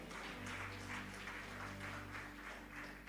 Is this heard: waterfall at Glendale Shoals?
no